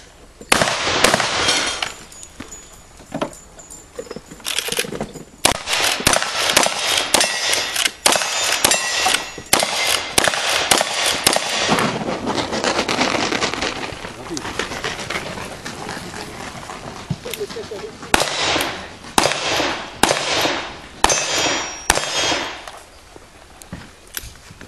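Gunshots from a shooter's firearm at a range, a long series of loud, sharp cracks, some in quick bursts and others spaced apart, close and dominant with no talk.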